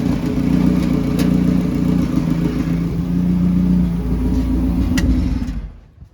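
A Honda H-series engine idles steadily with a loud, close mechanical clatter and whir, then is shut off and winds down to quiet at the end.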